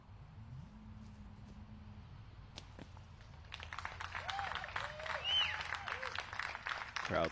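Spectators at a women's pro disc golf tournament, the Cascade Challenge, break into cheering and clapping after a shot lands pin high, starting after a quiet stretch and swelling to a sustained outdoor crowd roar with a few whistles.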